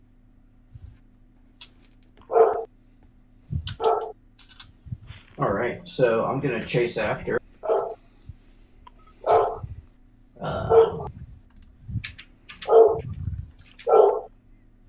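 A hellhound sound effect of dog barks comes in repeated short bursts at a mid distance, spaced irregularly across the stretch, with people talking between the barks and keyboard typing faintly underneath.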